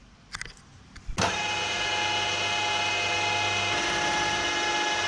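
New shop milling machine spinning up with a sharp start, then holding a steady mechanical whine and hum as it touches off a workpiece held in a vise, with a few clicks before it starts.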